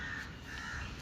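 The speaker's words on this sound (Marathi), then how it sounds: "हे वरती उडणारे कावळे." Crows caw overhead in the morning as they fly past, their harsh calls repeating over a steady, fairly loud outdoor background hiss for the whole moment.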